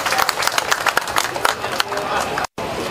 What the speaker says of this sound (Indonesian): boleh buka tepuk tangan meriah